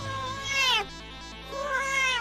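A cat meows loudly and close, two drawn-out rising-and-falling cries with a short pause between them.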